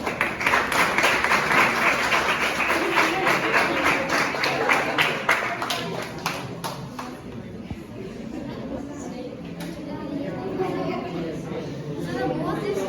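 Students in an English class clap for award nominees, a dense round of applause for about seven seconds that thins into scattered claps and classroom chatter.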